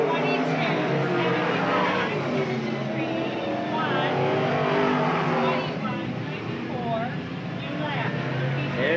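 Race cars roar around a Eugene Speedway oval in a 1992 event, their engines droning and shifting pitch as they pass, with an announcer's voice running over the steady track noise.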